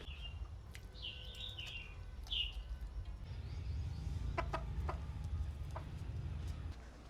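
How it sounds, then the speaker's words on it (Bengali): A desi hen brought from the market gives a few soft clucks early on, then falls quiet against a low, steady background rumble. "এই যে আজ একটা গুলি মুরগি আনছি বাজার থেকে"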